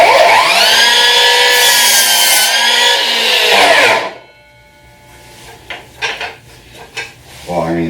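A Ryobi P3650 10-inch cordless sliding miter saw on two 4 amp-hour batteries cuts a clamped 2x3 scrap of wood, a loud whining motor and blade through the cut for four seconds, then winding down and a few clunks.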